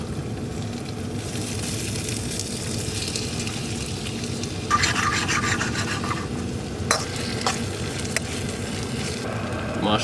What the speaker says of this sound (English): Now we're gonna put onion in.